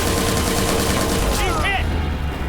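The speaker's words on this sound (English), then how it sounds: "tell me those weren't gunshots" Rapid gunfire in the video game Watch Dogs 2, a dense, continuous burst of shots that fades out partway through, with game dialogue spoken over it.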